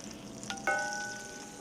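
Green onion whites frying in a pan with butter and extra virgin olive oil, a soft steady sizzle rising with a brief clatter as they go in, then a continuous close crackle.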